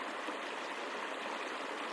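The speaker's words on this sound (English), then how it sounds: "The soundscape evokes the ecological progression of water in the Sierras" A soundscape of flowing water evoking Sierra streams, heard as a continuous, even, broadband rush with no voices over it.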